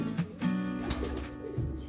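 A pair of breeding pigeons, a Dubai-line female with a France-line male, give soft, low coos close by, with a few brief rustles or wing sounds between the calls.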